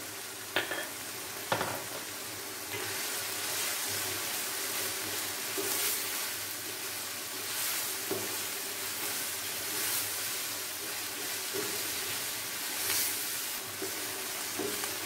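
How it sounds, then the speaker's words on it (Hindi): Steady sizzling of minced meat frying in a pan with tomato and garlic, with occasional scrapes and stirring clicks, continuous and close with no talking. "इसको अच्छी तरह फ्राई करूंगी मैं टमाटर के साथ, लहसुन के साथ।"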